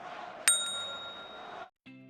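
A bright notification bell sound effect rings once with a sharp strike, followed by a sustained shimmering tone that cuts off, then a short second chime.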